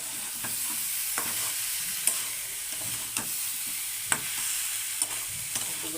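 Vegetables with potatoes sizzle in a pan while a utensil scrapes and stirs, giving a few sharp clacks at irregular intervals over steady frying.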